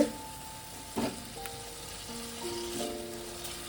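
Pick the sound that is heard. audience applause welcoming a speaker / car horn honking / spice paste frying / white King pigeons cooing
spice paste frying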